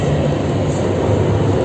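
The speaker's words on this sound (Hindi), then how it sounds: "ये है जी वुहान की मेट्रो।" Inside a Wuhan metro train, a loud continuous rumble and roar of the carriage in motion holds steady with no voices.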